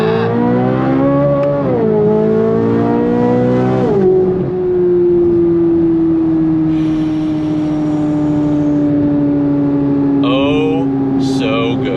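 A Chevrolet C8 Corvette Z06 roars at full throttle, rising sharply through gears with brief shifts, then holding a loud steady drone with pops and crackles near the end.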